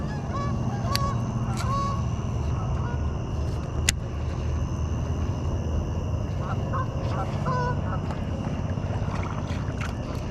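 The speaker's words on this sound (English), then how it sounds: "These geese are going to land right on my noggin." Geese honk in scattered calls while flying in to land near a lakeside bank, heard at a moderate distance over a steady background of water and boat noise.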